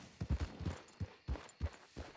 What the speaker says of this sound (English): Oh, is that a horse?